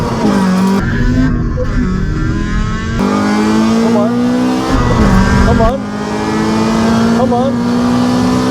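Audi Q3 TFSI quattro and EP3 Civic Type R launching side by side from a standstill, engines roaring loud and close as they rev and pull through gears with brief tire squeal, while a voice urges them on.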